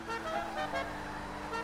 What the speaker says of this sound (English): Oh, and it started honking at me.